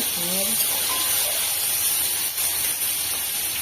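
Prawns drop into hot oil in a heated wok and sizzle with a steady, loud hiss that fills the whole stretch, while a voice speaks briefly near the start.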